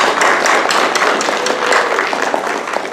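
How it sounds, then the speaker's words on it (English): A school assembly crowd gives a round of applause, dense steady clapping from many hands filling the room for a few seconds, fairly close and continuous. "give a round of applause to these Caring Cranes"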